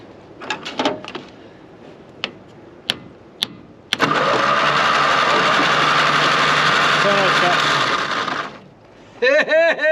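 A stuck starter on a WW2 Ford Jeep engine grinding in one loud continuous whir for about four seconds, cut off abruptly, with clanks and handling noises before and voices talking around it.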